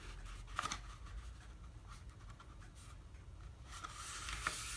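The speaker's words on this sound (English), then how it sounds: "So if I just take this right here and fold that over" A sheet of paper is folded over and creased flat, giving soft, close rustling and a few light crinkles and pressing strokes at low volume.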